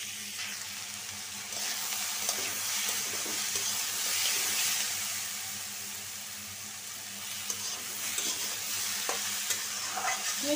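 Potatoes and onions fry in a pan until reddened, giving a continuous close sizzle with soft stirring scrapes that swell and ease over ten seconds; no one speaks.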